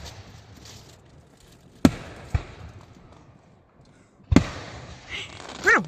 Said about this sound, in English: Bruno, the fireworks right there.